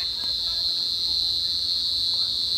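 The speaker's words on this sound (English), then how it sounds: "Cicadas. In the tree." Cicadas sing in a tree outdoors, a continuous high buzzing drone holding steady and fairly loud against a quiet background, with no pause across the short stretch.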